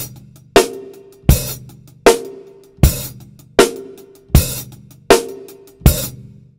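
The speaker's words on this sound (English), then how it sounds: "So what you now can do is to play a short hi-hat opening" Eight evenly spaced drum accents, each a bright open hi-hat splash that quickly closes, ringing briefly over a low thump.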